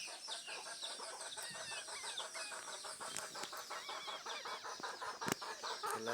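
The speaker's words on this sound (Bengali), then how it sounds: "দর্শক দেখতে পাচ্ছেন এগুলো হচ্ছে মোরগ, দেশি মোরগ" Native village roosters and chickens clucking and calling in a yard, a steady flock chorus of short repeated clucks and squawks over faint outdoor background noise.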